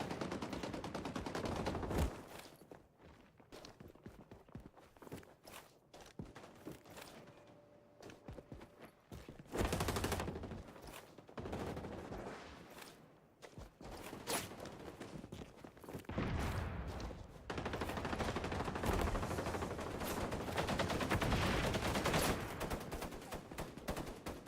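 Rapid bursts of automatic gunfire in the shooter video game XDefiant, dense sustained volleys broken by brief quieter gaps and footsteps, fairly loud and close.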